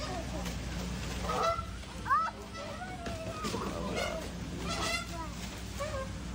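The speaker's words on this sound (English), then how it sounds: "This goose thought it'd be a good idea to go in the tiger enclosure." A goose honks repeatedly inside a tiger enclosure, a series of nasal calls spread across several seconds over steady background noise and distant crowd murmur.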